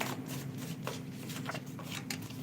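Oracle cards being shuffled by hand, a soft continuous riffling and flicking close by with short rhythmic bursts over a low background hum.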